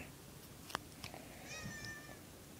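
A cat meows in the video game Nintendogs + Cats, a short tonal call heard alone over faint background hiss, soft and moderately close.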